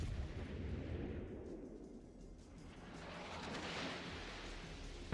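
Naval gunfire from battleships in World of Warships Legends, a steady rumbling barrage of distant booms and blasts rolling on throughout, with no talk.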